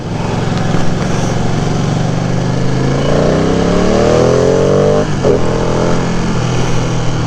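A Ducati Panigale V2 L-twin superbike with an underseat exhaust revs up while riding; the loud, steady engine drone climbs in pitch through one long acceleration, then settles lower after a brief shift.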